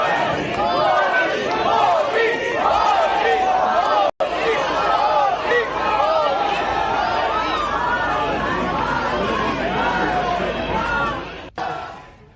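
A large crowd at a consulate inauguration cheers and chants loudly and continuously, a dense roaring babble of many voices that holds steady before dropping away near the end.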